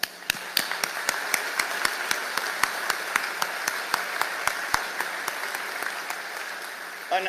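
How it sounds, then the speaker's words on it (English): Audience applause at a military change of command ceremony, a steady dense patter of clapping with sharper individual claps standing out, fairly loud and sustained, with no talk over it. "a huge round of applause, please, for them"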